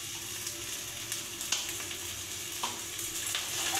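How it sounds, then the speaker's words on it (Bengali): Boiled potato being mashed and stirred in a wok, a steady soft scraping and squishing with faint sizzling underneath and occasional sharper knocks of the utensil against the pan. "এবার কড়াইতে ভালো করে আমি আলুটাকে মেখে নেব"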